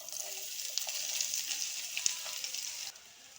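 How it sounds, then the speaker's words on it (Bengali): Chopped onions fry in hot oil with cumin, a close, bright, continuous crackling sizzle with a few faint utensil taps, which drops off sharply near the end; no talk. "এগুলো একটু হালকা ভেজে নেব। এবারে দিয়ে দেব পেঁয়াজ কুচি।"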